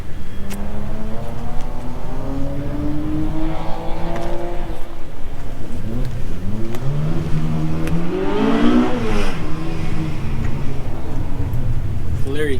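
A car engine revs hard at a track day, loud rising and falling pitch sweeps as it accelerates past, with people talking under the engine noise.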